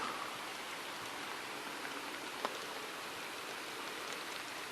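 Rain falls steadily outdoors around a campsite, an even close hiss of drops with one faint tap standing out and no voices.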